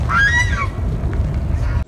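Geese honking outdoors in snow, a loud nearby goose call of a few rising and falling honks at the start, followed by low rumbling background noise.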